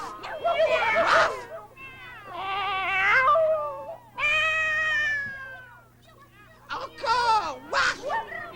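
Several voices imitate cats, drawing out loud, wavering meows one after another in an old French children's broadcast, some overlapping and shrill, with short pauses between the calls.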